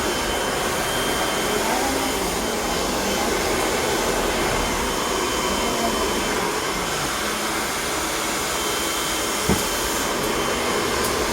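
A hair blower dryer at a beauty salon in Davao City runs continuously with a loud, steady rushing whoosh that fills the whole stretch, with faint voices underneath.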